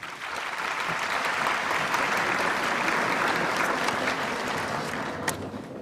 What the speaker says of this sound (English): If we could hold the applause until the end of the introductions, that would be great.